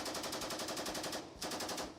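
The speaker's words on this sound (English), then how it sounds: "This is how you fire an M240 Bravo." An M240 Bravo light machine gun fires rapid automatic bursts, a fast even stream of sharp reports, with one brief pause before the rhythmic firing resumes.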